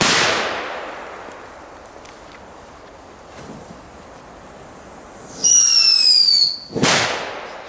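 Outdoor fireworks go off in Belgium, including a heksenkindje: a sharp crack opens, faint pops follow, then a high shrill whistle rises and ends in a loud burst.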